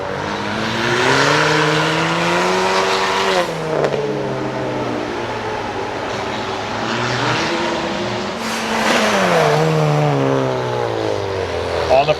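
A street-class race car corners hard on a track at the Carlisle Ford Nationals, lifting a rear wheel. Its engine roars loud and steady, pitch sweeping down and up as it lets off and reaccelerates through the turn.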